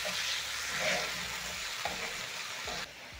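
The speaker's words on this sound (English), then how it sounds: "I'm going to add in 2 diced tomatoes, stir in the tomatoes" Diced tomatoes are stirred into golden brown onions frying in a pan for a saucy chicken stew, giving a steady close sizzle broken by a few soft scraping stirs, with no voices.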